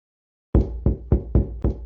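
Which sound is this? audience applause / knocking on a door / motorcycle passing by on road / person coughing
knocking on a door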